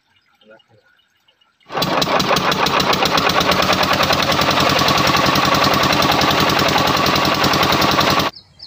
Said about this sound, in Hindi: इंजन भी सही हो चुका हमारा देख सकते हैं